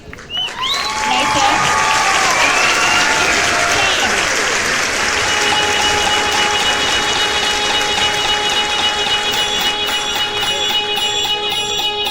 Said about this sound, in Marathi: जोरदार टाळ्या होऊन जाऊ दे